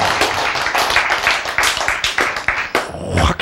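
A church lecture audience claps together in a loud, close burst of rhythmic hand claps that runs throughout, with a few brief shouts mixed in.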